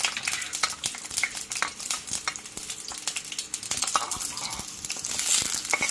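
Onions frying in oil in a pan, a continuous close sizzle broken by frequent quick scraping and clicking strokes of a stirring spoon.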